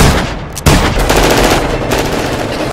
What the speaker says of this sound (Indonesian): dan sempat menembak Luther